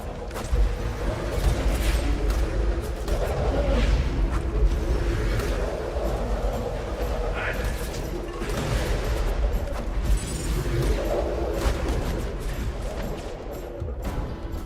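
Shotgun blasts from the video game Borderlands 2 pound in dense, overlapping bursts, loud and continuous, amid booming combat noise with no talking.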